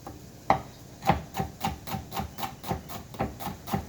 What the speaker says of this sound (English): We're going to start off by chopping a little shallot here.